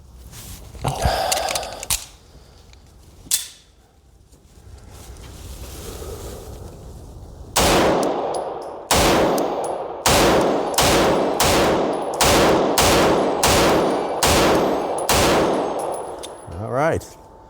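Shots from a Beretta PX4 Compact Carry pistol at a shooting range, a rapid string of about ten sharp, loud, close reports in a steady rhythm after a few earlier isolated bangs and some handling noise.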